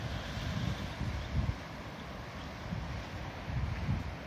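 Gusty wind buffeting the microphone near Akranes Lighthouse on the coast, a steady low rumble that swells in a few stronger gusts.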